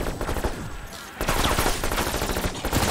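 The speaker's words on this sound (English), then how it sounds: "I think the turrets took out a lot of the enemies." Sustained automatic turret gunfire in Cold War Zombies, a dense fusillade of rapid shots that thickens after a brief lull and keeps rattling loudly to the end.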